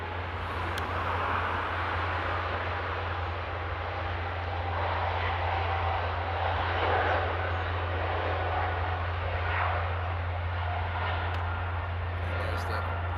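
An airliner takes off at Paris Charles de Gaulle airport, giving a continuous broad jet roar with a low droning hum beneath it, steady and fairly distant throughout.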